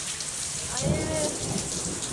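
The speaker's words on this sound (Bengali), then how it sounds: "আকাশ ডাকতেছে অনেক অনেক জোরে বৃষ্টি আইছে" Heavy pre-monsoon rain pours steadily, and a low rumble of thunder rolls through near the middle before fading back into the downpour.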